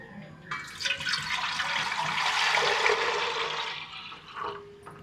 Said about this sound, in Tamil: தண்ணியை ஊற்றுறோம்.